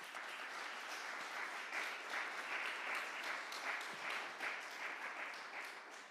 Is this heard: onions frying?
no